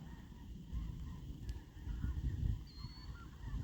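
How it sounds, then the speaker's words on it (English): Geese honk at a distance in the Missouri countryside, faint calls drifting over a low, rumbling outdoor background. "Look at all these geese, man."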